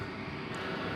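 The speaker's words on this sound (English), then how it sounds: "the one on the right, which is on the move, is of course, the British Airways A380 going back to London" A British Airways Airbus A380 airliner moves at DFW Airport, a steady broad jet engine roar filling the whole moment without a break.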